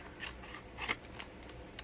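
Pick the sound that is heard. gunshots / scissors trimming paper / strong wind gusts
scissors trimming paper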